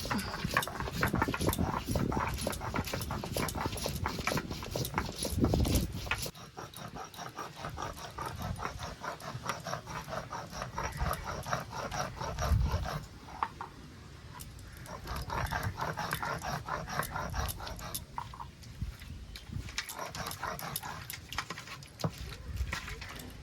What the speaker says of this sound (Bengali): এখন লঙ্কাটা বেটে দেবো